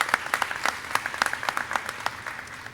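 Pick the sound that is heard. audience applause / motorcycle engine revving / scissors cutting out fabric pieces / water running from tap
audience applause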